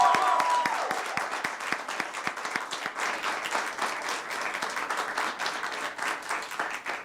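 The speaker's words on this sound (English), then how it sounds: "And please, can we have another loud round of applause for them?" A crowd applauds young high school and middle school performers at an arts show, steady clapping that starts beneath a brief tone and carries on evenly at moderate distance to the end.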